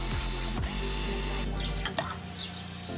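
Hand ratchet clicking on the half-inch cylinder head bolts of a push mower engine being scrapped, a few close ratcheting passes with a sharp metallic knock near the end.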